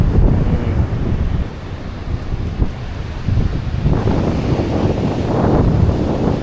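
Strong sea wind blows on a fishing coast, a loud, steady roar buffeting the microphone with gusting surges and a wash like surf beneath, no voices.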